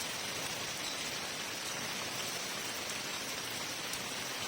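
Steady, heavy rainfall in Lahore on a cool, breezy day, heard as an even, unbroken wash of falling drops with no talking.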